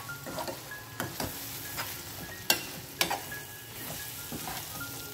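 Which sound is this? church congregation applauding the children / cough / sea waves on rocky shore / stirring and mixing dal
stirring and mixing dal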